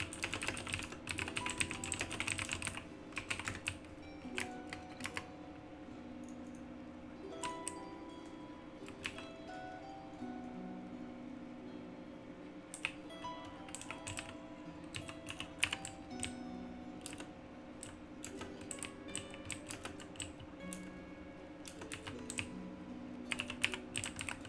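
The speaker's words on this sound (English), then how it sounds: "I'm typing" Steady typing on a computer keyboard during a Classic World of Warcraft stream: quick, close clicks and key taps in bursts and pauses throughout, over a low background hum, with no talking.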